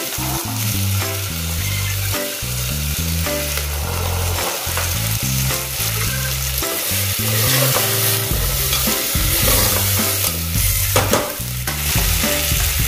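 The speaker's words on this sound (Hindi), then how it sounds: "टमाटर डालेंगे बारीक कटा हुआ, और मटर भी डाल देंगे।" Finely chopped tomatoes and peas are stirred and fried in a pan for an aloo matar curry, giving a steady, loud sizzle with scraping strokes under continuous background music.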